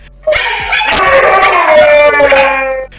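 Husky dog howling loudly indoors, a drawn-out wavering cry that starts abruptly and holds for a couple of seconds before cutting off.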